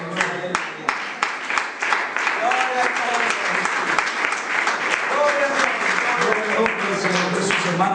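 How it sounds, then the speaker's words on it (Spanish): A church congregation bursts into sustained applause after a call to clap for the Lord, dense clapping filling the room throughout with scattered voices and a few cheers mixed in. "No le damos un aplauso al Señor."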